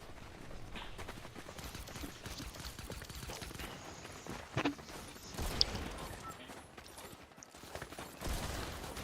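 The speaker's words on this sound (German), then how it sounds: "Oh, jedes Mal nachladen, nach jedem Schuss." Scattered gunshots crack in Fortnite, mixed with clicking and mechanical reload sounds after each shot, with a couple of louder bursts standing out over steady background noise.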